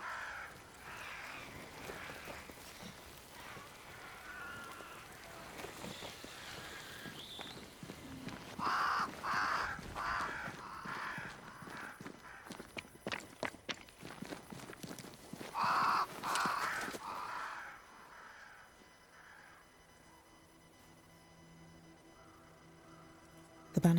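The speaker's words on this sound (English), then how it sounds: "Crows. They flock to that great tree up there." Crows caw in a wooded game scene from Banishers: Ghosts of New Eden, harsh repeated calls in two short bursts over a faint ambient bed, with hoof-like clopping sounds mixed in before the scene quiets.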